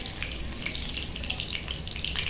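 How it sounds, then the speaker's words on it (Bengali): Loitta fish frying in oil in a pan, turned from side to side, with a steady close crackling sizzle and scattered sharp pops throughout, with no talking. "ভালো করে আমি এপাশ ওপাশ সুন্দর করে ভেজে নেওয়ার চেষ্টা করছি।"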